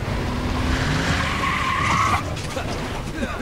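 A souped-up car skids hard across desert terrain in the Tales from the Borderlands video game, its loud tire squeal and engine roar sustained for a few seconds with a brief voice underneath.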